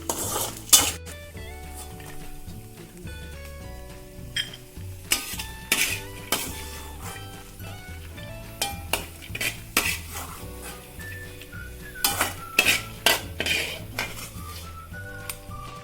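A metal spoon clinks and scrapes against a pan in irregular bursts as raisins fry, with a light sizzle underneath and music playing in the background.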